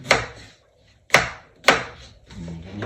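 Three sharp knife chops through a potato onto a board, evenly spaced about half a second to a second apart, close and crisp, followed by softer scraping; no talk.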